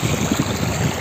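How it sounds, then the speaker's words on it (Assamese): Choppy water rolling and splashing on the Dhansiri River at the Assam–Nagaland border, a steady close wash of small waves with no voices. "ইয়াত বহুত ঢৌ"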